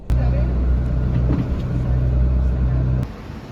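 Steady low engine idle rumble inside a bus before it pulls away on a trip from Tehran toward northern Iran, with soft cabin clatter and movement over the drone, cutting back near the end.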